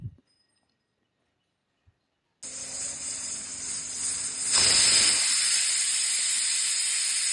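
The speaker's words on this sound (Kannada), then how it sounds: "ಈಗ ವಿಸಿಲ್ಸ್ ಬಂದಿದೆ, ಕುಕ್ಕರ್ನ ಓಪನ್ ಮಾಡಿ." A pressure cooker with horse gram and tomato breaks into a loud, steady steam hiss after near silence, then swells stronger and keeps releasing continuously.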